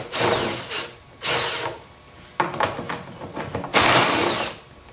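A power drill removes 10mm bolts from the drum motor of a Samsung or LG front-load washer, in several loud whirring bursts with brief pauses between bolts, close up and without talking.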